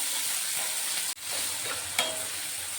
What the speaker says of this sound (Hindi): टमाटर और प्याज को हमने तेल में भून लिया है।